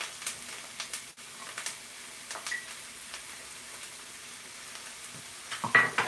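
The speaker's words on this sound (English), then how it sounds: "And continue to saute this" Red and yellow sweet peppers saute in a pan, giving a soft, steady sizzle with faint crackles and occasional light stirring scrapes. No one speaks.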